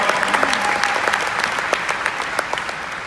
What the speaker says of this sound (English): let's give her another round of applause for her being up here.